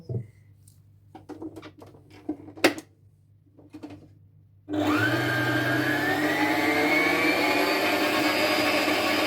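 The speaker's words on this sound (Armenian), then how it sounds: "Խմորի վրա ավելացնում եմ 1 ձու և միքսերը միացնեմ, թող հարի։" A few soft clicks and knocks, then an electric mixer switches on midway, beating dough with an egg, and whirs loudly and steadily to the end.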